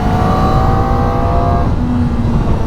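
Kawasaki ZX4RR motorcycle engine revving close by, a loud high-pitched buzzing whine that holds steady, then drops and changes tone partway through the short burst, with no talking.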